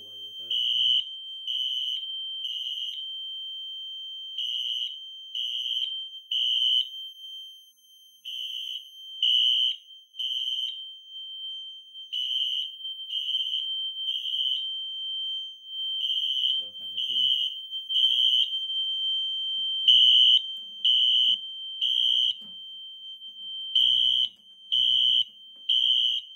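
Notifier SFP-1024 fire alarm system sounding during a detector activation test: a loud, sharp electronic horn pulsing in steady bursts, mostly in groups of three, continuing alone for the whole span with brief gaps between groups.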